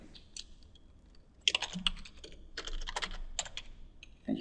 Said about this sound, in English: And you can see how bad my typing is.